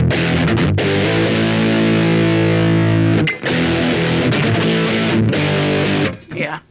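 An electric guitar plays through a distortion pedal with a loud, saturated sustained tone, its chords held and broken by a couple of brief gaps, fading out at the end with no talk over it.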